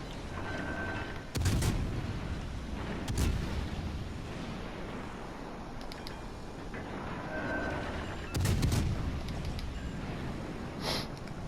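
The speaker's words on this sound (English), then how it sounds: "we took a really unfortunate salvo right there" Naval gunfire salvos boom in the World of Warships Legends video game, several heavy low blasts spaced a few seconds apart over quiet background rumble, fairly faint overall.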